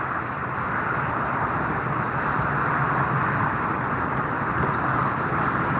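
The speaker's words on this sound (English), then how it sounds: "you can see a close view from Condor Airlines passing close by. Airbus A330" Condor Airlines Airbus A330 passing close by at Frankfurt Airport, a steady, loud broadband jet roar that holds evenly throughout without fading.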